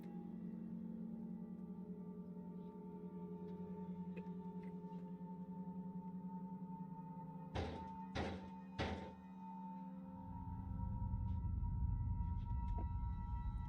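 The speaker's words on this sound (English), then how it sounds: "Someone banged on the door." Someone bangs on a door in the middle of the night: three loud, heavy thuds in quick succession against a steady low background hum, followed by a rising rumble.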